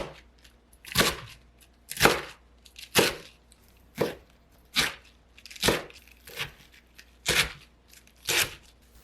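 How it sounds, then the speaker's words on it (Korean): A knife chops through napa cabbage stems and leaves on a cutting board in about nine separate, evenly spaced crisp strokes, each a sharp thud with a short crunch, close and clear. "배추의 줄기 부분은 가늘게 자르시고요. 잎부분은 반으로 자르고"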